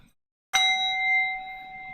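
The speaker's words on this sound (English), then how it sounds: "There's my bell." An electronic bell chime marks the stock market open, a single clear ding that sustains with a bright steady ring after a brief silence, heard alone and close.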